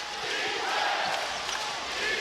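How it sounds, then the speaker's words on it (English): Basketball arena crowd cheering and roaring during an NBA playoff game between the Cleveland Cavaliers and Miami Heat, a steady, dense wash of crowd noise with no clear break. "Crowd coming alive."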